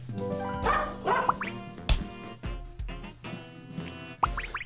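Cartoonish dog barks and yips from the WizardChess roguelike, several short bright bursts scattered over a busy game music bed with plops and chimes, moderately loud.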